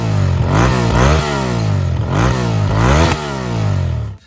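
A 2005 Honda VTR 1000 motorcycle with a loud aftermarket exhaust revs hard several times in loud rising and falling waves, its heavy exhaust note rasping, then cuts off abruptly.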